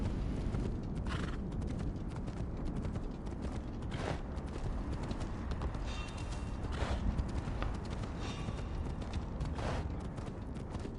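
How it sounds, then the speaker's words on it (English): A horse gallops quickly in the video game Assassin's Creed Odyssey, its rapid hoofbeats running continuously over a dense, steady background of game sound. "As you can see, the horse is pretty quick, even through here."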